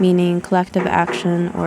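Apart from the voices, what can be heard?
No distinct noise like a dog, phone or traffic.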